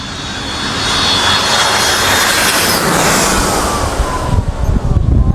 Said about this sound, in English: I am getting pummeled with the jet